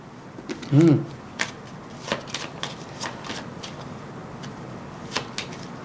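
Tarot cards are shuffled close up, a brief riffle followed by soft scattered taps and slides of the cards in quiet surroundings.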